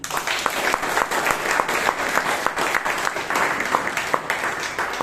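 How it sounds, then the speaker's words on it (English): A Toastmasters meeting audience in Bangalore gives a steady round of applause, many hands clapping at moderate volume for several seconds without a break. "Once again, a thunderous round of applause for our tag team."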